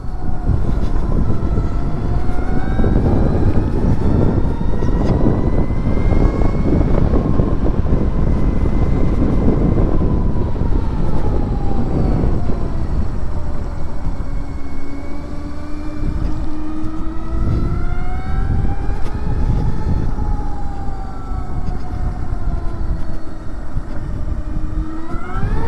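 A Harley-Davidson LiveWire electric motorcycle rides on the road, its motor whine rising and falling in smooth pitch sweeps over steady loud wind and road rumble throughout.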